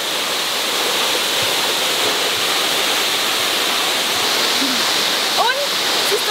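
Tam Nang waterfall in southern Thailand, running with plenty of water, pours in a loud, steady, unbroken roar close by, with a brief faint voice near the end.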